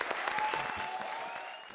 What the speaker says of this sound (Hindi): तो जोरदार तालियों से स्वागत करो मेरे नए शिकार, नए पार्टनर का